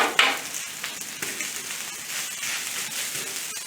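Day-old rice frying in a hot pan for fried rice, a steady bright sizzle and crackle with a sharp burst at the start, loud and close, with no talk.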